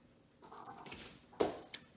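Cats at play make faint scuffling and soft vocal sounds, with a few quick bursts and rustles over a quiet room, close by and low in level.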